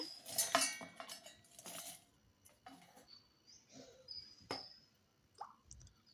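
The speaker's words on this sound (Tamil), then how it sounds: "ஒரு மிக்ஸி ஜார் எடுத்து மீடியம் சைஸு போட்டுக்கோங்க." Light clinks and taps of a mixer jar being handled in a kitchen, a few sharp clatters and a brief scrape, close by with no talking.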